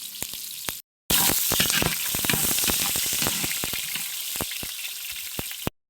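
Garlic sautéing in a hot pan for a vegetable stir-fry, a loud, dense sizzle that bursts in after a short gap and holds steady with crackling pops, close and without talk.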